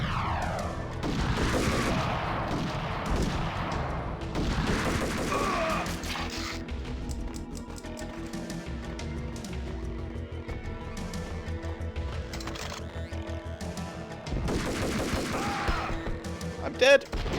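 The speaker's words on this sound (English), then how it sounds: "Who's shooting? Please stop shooting." Bursts of gunfire from the Max Payne video game, dense volleys early and again near the end with lighter shots between, mixed with a steady game music bed and someone talking over it.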